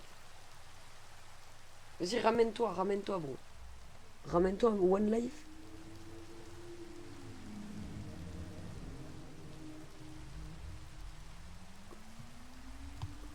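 Steady rain hisses across the whole stretch in the horror game Dark Reload, with Siren Head stalking, while someone talks excitedly over it and low droning tones drift underneath.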